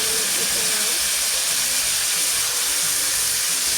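Cut squash (loki) being stirred in a hot pan, giving a loud, continuous sizzling hiss that stays steady throughout with faint scraping underneath.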